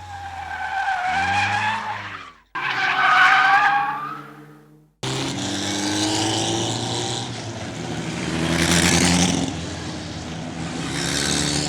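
A race car skids and spins out at a racing school, its engine roaring and revving in loud, sustained bursts with a sharp break midway, then a long continuous stretch of engine and tire noise that swells and fades.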